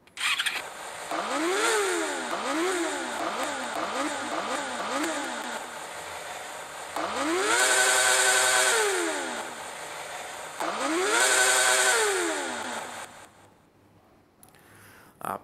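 A Honda CBR 600RR 600cc motorcycle in a video game revs repeatedly, climbing and falling through several throttle blips, loud and close, then cutting off near the end.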